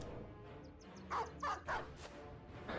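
Dog in the Battle Brothers video game gives several short barks and yips in close succession over a steady murmur of game background noise.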